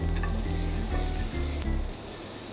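Steak searing in a very hot pan, a steady loud sizzle and crackle of fat close by, continuous throughout with no voices.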